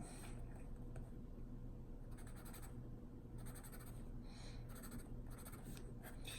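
Drum notation written out by hand with a pen or pencil on paper, a steady scratchy rub of strokes running throughout in short bursts, close and fairly faint, with no talking.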